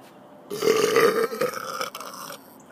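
A single long, loud burp from a person indoors, rumbling for about two seconds before trailing off.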